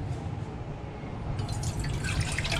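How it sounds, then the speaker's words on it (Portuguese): 200 ml of water being poured into a mug for a cheese polvilho biscuit recipe, a short, quiet trickling and splashing that grows slightly brighter midway, with no talk. "em um caneco, a gente vai colocar os 200 ml de água"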